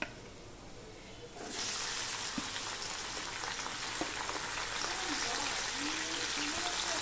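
Okra (bhindi) dropped into hot oil in a pan, with a sudden burst into loud, dense sizzling and crackling that continues steadily, following a quieter opening moment.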